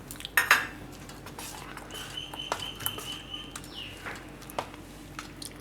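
A spoon mixes chopped vegetables into a semolina and flattened rice batter for uttapam, with a sharp metallic clink at the start followed by softer scraping and tapping in a bowl, fairly quiet.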